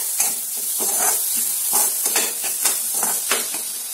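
Tomatoes with salt sautéing in a pan for paneer bhurji, a steady close sizzle broken by repeated scraping strokes of a spoon stirring through the mixture.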